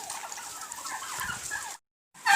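Chickens cluck continuously nearby during poultry vaccination, a busy flock chorus that cuts out briefly before a sharp, louder squawk.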